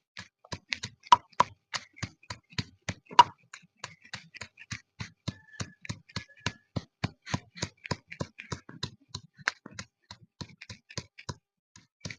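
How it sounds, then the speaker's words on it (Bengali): Garlic and onion are worked into a paste with a steady series of sharp, evenly spaced taps and knocks, close and clear, continuing in a regular rhythm with brief pauses. "রসুন আর পেঁয়াজ বাটা দেব একসাথে বেটে নিচ্ছি"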